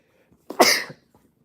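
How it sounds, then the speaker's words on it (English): One close, sudden sneeze bursts out loudly after a short breath in, then quickly dies away. "I had to sneeze."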